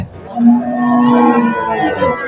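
A dairy cow at the Kalampur cattle market lets out one long, close moo lasting over a second, followed by a quieter drawn-out tail amid low market background noise.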